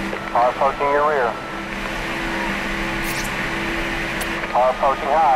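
A stock car in a racing video game at Talladega Superspeedway holds a steady, loud engine drone as it closes in, while a spotter's radio voice cuts in briefly at the start and again near the end.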